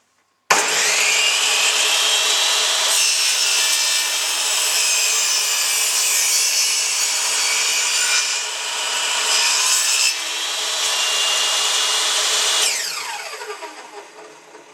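A table saw rips through wood on a 45-degree crosscut sled, a loud continuous high whine of the blade biting the board for about twelve seconds, then winding down as the blade spins off, with no talking.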